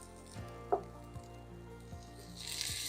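Soft cherry tomatoes being pressed and burst with a spoon in a hot pan, giving a few faint, separate squishes and taps over a quiet low sizzle.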